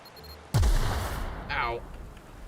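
A pistol fires once in the video game The Outer Worlds, a sharp, close, loud shot with a falling, echoing tail, and a brief voice follows soon after.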